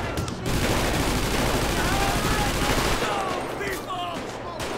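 Rapid gunfire from a pistol and an automatic shotgun in the video game GTA V crackles in a dense, continuous burst, loud and close, then thins out toward the end.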